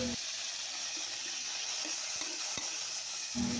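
Sardines sautéing in a pan give a steady broadband sizzle, with faint utensil scrapes and clicks under it and no talk.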